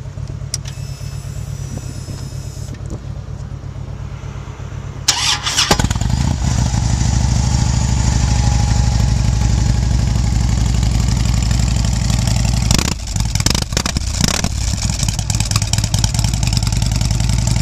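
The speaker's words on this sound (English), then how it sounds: "We'll start it up for you so you can hear the bike." A 2008 Harley-Davidson FLHTC touring motorcycle cranks and fires up, then settles into a loud, steady, rumbling idle close by, with a few throttle blips near the end and no speech.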